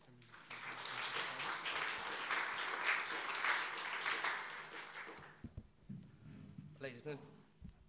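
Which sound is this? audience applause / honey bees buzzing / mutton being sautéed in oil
audience applause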